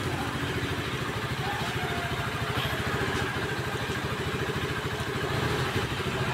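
A brand-new 2025 Rusi Classic 250i motorcycle idles steadily nearby, its engine putting out an even, rapid low chug with a faint mechanical clatter that holds constant throughout.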